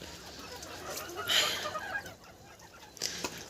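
A hen clucks in short, soft bursts outdoors, with a faint rustling background and a brief louder call near the end.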